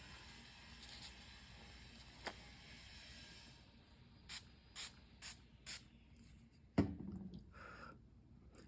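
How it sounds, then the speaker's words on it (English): Glimmer mist sprayed from a pump bottle onto a Bible journaling page, first a long faint hiss, then four quick separate spritzes in a row, followed by a louder clatter and rustle near the end. "maybe I need to spray it farther away. I'm gonna try a little bit more up here."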